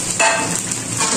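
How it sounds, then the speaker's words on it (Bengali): Onion goes into plenty of hot oil, giving a loud, steady crackling sizzle with a brief surge at the moment it lands. "আর এখন দিয়ে দিচ্ছি পেঁয়াজ।"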